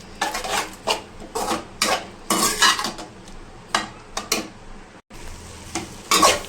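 Spice masala being stirred and roasted in a pan for a gravy-style arbi (taro root) curry, with repeated scraping strokes of a spoon against metal over a soft sizzle, close and fairly loud, with no talking.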